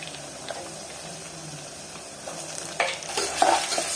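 Sliced onions with ginger garlic paste fry in a pan with a soft, steady sizzle, then scraping spoon strokes grow louder near the end. No voices.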